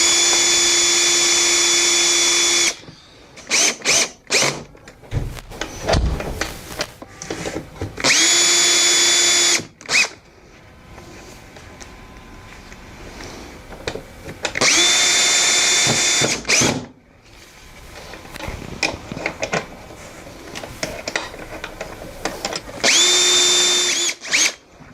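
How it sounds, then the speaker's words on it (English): A power drill fitted with a Vix self-centering bit bores pilot holes for a barrel latch on a door, running in several loud, sustained bursts of whirring separated by quieter pauses with handling clicks. "To drill the holes, I'll just be using a Vicks bit to center them."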